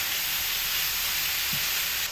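Beetroot and poppy seeds are stirred in a frying pan, giving a loud, continuous hiss of sizzling with no voices.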